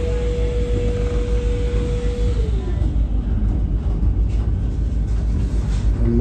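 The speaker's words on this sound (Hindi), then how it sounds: "लोकल ट्रेन के साथ हो गई हमारी क्रॉसिंग।" A local train passes while riding aboard the Tata to Howrah Vande Bharat express, heard as a loud, steady low rumble and rush of rail noise throughout, with a sustained tone that fades and bends downward partway through.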